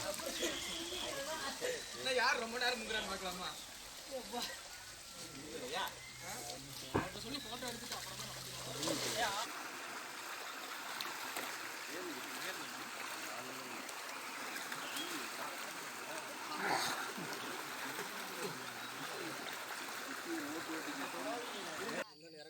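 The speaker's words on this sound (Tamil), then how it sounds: "மழை பெஞ்சிருக்கிறதுனால என்னமோ சுனையில் தண்ணி நிறையா போயிட்டுருக்கு." Water from a mountain spring on the Velliyangiri hills, swollen after rain, rushes steadily and close by with a continuous broadband wash and occasional louder splashes, and voices are heard faintly now and then.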